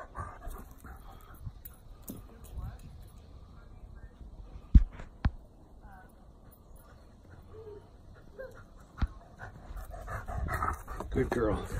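A dog pants and gives a few sharp barks during a game of fetch, the sounds close and mid-loud, while a person speaks intermittently.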